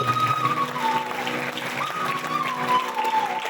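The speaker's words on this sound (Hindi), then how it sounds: "एक बार जोरदार ताली" An audience at a Bhagavat Katha religious discourse in Chandigarh claps steadily, with moderately loud, sustained applause and faint instrumental tones beneath.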